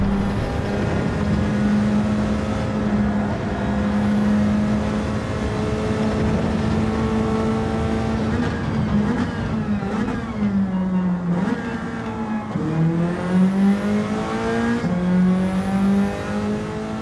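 A Nissan Silvia's engine in Gran Turismo 7 on the Grand Valley track, pulling hard in second gear under heavy throttle with the wheel turned. It rings loud and continuous at sustained revs, its pitch dipping and climbing back near the end.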